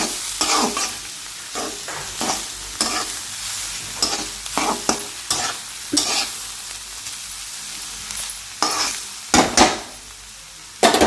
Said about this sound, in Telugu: సాల్ట్ వేసుకున్న తర్వాత అది కరిగేంత వరకు బాగా కలిపి వేసుకొని